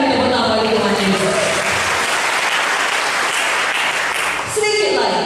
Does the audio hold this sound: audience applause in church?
yes